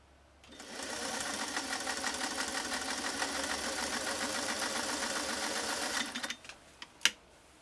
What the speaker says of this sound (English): 6 layers of heavy grade denim. Here we go.